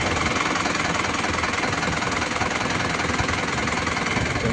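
A 2002 Isuzu Panther Touring fitted with a turbo timer idles with a steady, dense engine clatter and hum, continuous and unchanging throughout, close and without voices.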